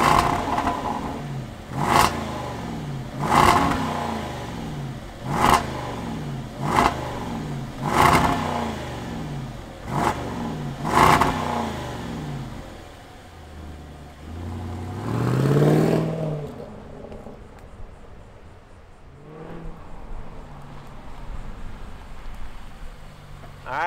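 A 2024 Jaguar F-Pace SVR with a 5-liter supercharged V8 revved repeatedly, six sharp rising blips in a steady rhythm, then one longer rev before it settles into a low idle, close and loud.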